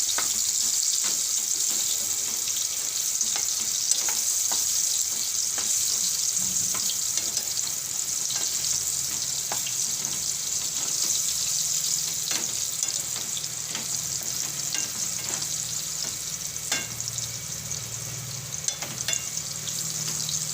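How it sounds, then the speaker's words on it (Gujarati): Raw banana pieces with turmeric fry in oil over low heat, a continuous bright hiss and crackle with scattered small pops and faint stirring taps, steady and close throughout. "ઘડીકવાર આપણે આને તેલમાં સડવા દેવું"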